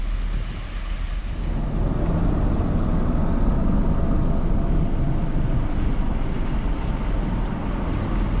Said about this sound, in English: I'm hoping this is the commuter ferry over to Liverpool